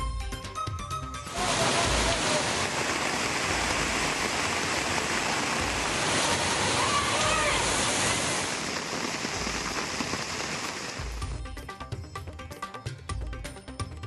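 Evening drizzle in Madurai and Virudhunagar districts makes a steady, dense hiss of falling rain. It starts abruptly and runs evenly for about ten seconds before cutting off, with no voices.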